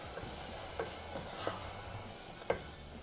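Mint rice masala of pudina sautéing in a pan; a soft, steady sizzle continues throughout, punctuated by a few light spatula taps and stirs, with no talking.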